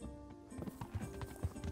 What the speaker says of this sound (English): I did not mean to call my horse.